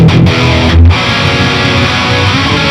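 A distorted electric guitar plays through an Audio Assault Bulldozer amp sim with a chorus effect, a loud, thick sustained chord ringing out after a couple of short attacks, alone with no voice.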